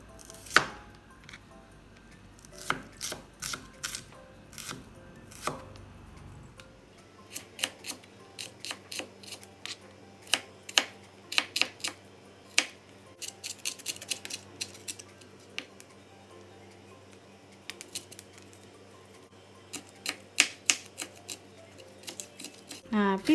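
Sharp knife chopping shallots on a cutting board, a long series of crisp, close clicks and taps in irregular bursts, with a person talking over parts of it.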